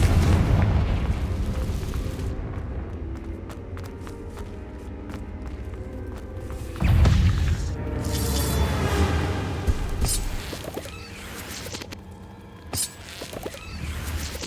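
In Hogwarts Legacy, a Confringo spell bursts with a deep booming explosion midway through the clip, set among a dense game soundscape of rumbles, clicks and sharp magical effects.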